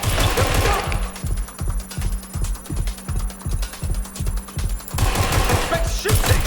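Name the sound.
gunfire in the video game Watch Dogs Legion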